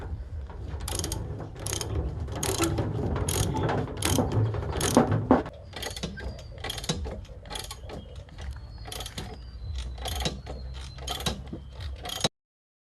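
A ratchet wrench works a bolt on the front shock of a Toyota Innova, giving loud, close clicking strokes. A dense run of ratcheting comes first, followed by separate, evenly spaced clicks that stop abruptly.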